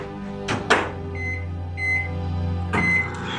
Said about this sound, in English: pop it in the microwave for about